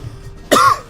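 A single short, harsh cough from a livestreamer playing Rogue Legacy 2, close to the microphone, breaking a quiet background.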